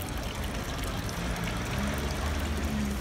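Spring water pours steadily from a Roman public fountain in Rome, a continuous close splashing stream with a low murmur of background activity throughout.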